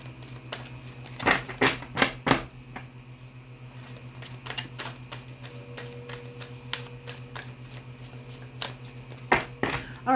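Golden Dawn tarot cards shuffled by hand in a quiet room, sharp close card slaps and snaps in irregular clusters over a steady low hum, no voices.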